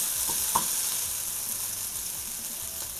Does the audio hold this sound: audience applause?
no